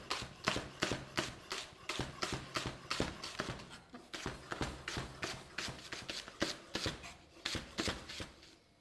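A knife chops tempeh into fine pieces on a cutting board, making a steady run of sharp, close taps with short pauses between bursts.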